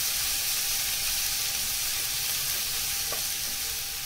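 Chopped onion sautéing in a pan for dahi bhindi masala gives a steady, dense sizzle that stays even throughout, with a faint scrape of stirring near the end and no voices.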